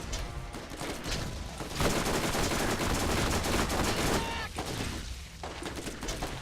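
Rapid gunfire in Borderlands co-op play, a dense, loud run of shots crackling almost without pause, with brief gaps and some thuds mixed in.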